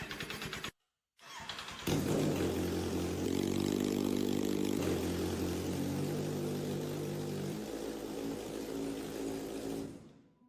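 A wrecked motorcycle with a cracked engine case tried on the starter: a brief crank, a pause, then the engine catches and runs roughly for several seconds, droning loud and steady before cutting off.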